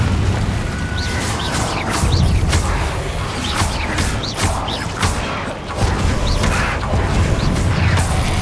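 Repeated Confringo fire-spell blasts in Hogwarts Legacy, a loud, continuous run of booming, crackling impacts with sharp whooshing bursts recurring every half second or so over a dense roaring bed.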